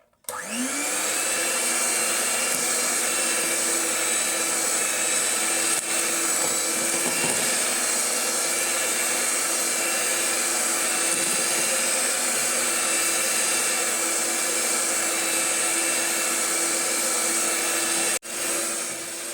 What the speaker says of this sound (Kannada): ಓಕೆನಾ, ಬ್ಲೆಂಡ್ ಮಾಡಬೇಕು.